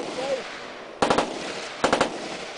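Two quick machine-gun bursts at an outdoor machine gun shoot event, each a rapid string of sharp shots over steady background noise.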